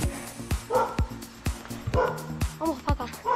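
A dog in a village street in Bedmar, Jaén, Spain barks in a quick repeated series of sharp yips, fairly close and moderately loud, with a few whimpering notes between barks.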